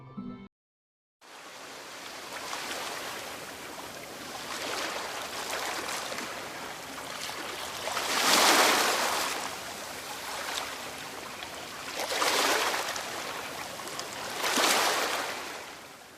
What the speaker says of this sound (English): This one sounds like how you would pretty much expect with the waves crashing down.